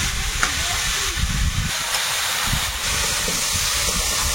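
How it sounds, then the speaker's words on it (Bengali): Prawns, potato and ridge gourd fry together in a pan over a wood fire outdoors. A steady, even sizzle and hiss holds close and fairly loud throughout, with no talk. "সবকিছু একসঙ্গে মিশিয়ে নেড়ে চেড়ে ভেজে নিচ্ছি"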